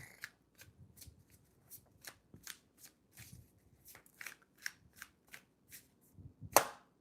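Tarot cards shuffled by hand in a quiet room, a steady run of soft riffling flicks and taps, close and fairly faint, ending with a sharper snap.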